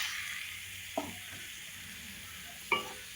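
Half a kilo of cleaned prawns sauté in a pan with turmeric and salt, giving a soft, steady sizzle. Two brief knocks of the stirring spoon against the pan sound close by.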